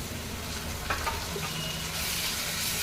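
Ginger garlic paste sizzles with onion in a hot pan, making a steady close frying hiss with a few soft stirring scrapes partway through.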